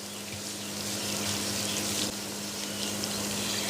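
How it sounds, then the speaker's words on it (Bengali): Chopped onions fry in hot oil for a chicken roast, giving a dense, continuous sizzle that stays steady and fairly loud throughout, close up, with a faint low hum underneath and no talking. "পেঁয়াজ কুচিটাকে খুব ভালো মতো একটু বেরেস্তার মতো করে নিব।"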